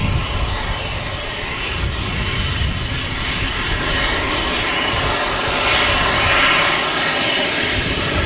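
A jet airliner's engines roar steadily and loudly at Manchester Airport, a broad continuous rumble and hiss that swells slightly toward the end, with no voices.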